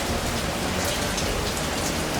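Heavy rain pours steadily onto a Leopard 45 catamaran, a dense, even hiss of drops drumming on the deck and covers throughout, with no voices.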